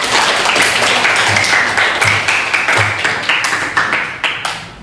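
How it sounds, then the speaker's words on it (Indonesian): Students in an Indonesian classroom clap together for several seconds, a dense burst of hand claps that stays loud throughout and thins slightly toward the end. "tepuk tangan."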